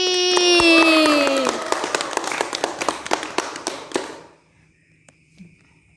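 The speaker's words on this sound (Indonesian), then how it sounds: "tepuk tangan dong untuk Pinky" Audience applause for a guest on a talk show, a burst of many hands clapping that thins into scattered claps and fades out by about four seconds, with a brief voice under the start.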